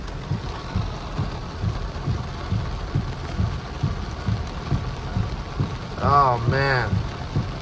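Heavy rain in a thunderstorm in Big Bear, California hisses and patters steadily against a window nearby, with a low rumbling undertone, and a person speaks briefly near the end.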